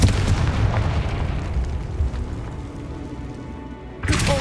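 Fire spell blast in the Hogwarts Legacy game, a heavy booming burst with rumbling crackle that decays over several seconds, loud and alone, followed by a fresh burst near the end.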